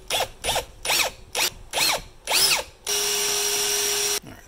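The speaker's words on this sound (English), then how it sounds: "I'm actually gonna use a little bit of an actual countersink here and see if I can take a little more metal off on the top" A countersink cuts metal on a Victorinox Cadet knife in six short whirring bursts. Then comes one longer steady spin with a high whine. It is close and clear, with no talking.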